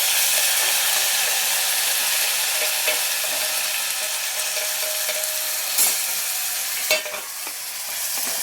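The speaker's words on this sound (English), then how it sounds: "I fried the onions till they are brown" Browned onions and tomatoes fry in a pan with a loud, steady close-up sizzle and hiss, with a couple of brief stirring knocks and no talking.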